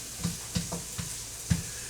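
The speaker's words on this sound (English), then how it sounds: "a little olive oil, little onions, little carrots. Okay, we are just getting some browning on these carrots" Carrots and onions browning in olive oil for a French-style lentil soup, a soft steady sizzle with a few close, evenly spaced stirring knocks against the pan, no talk.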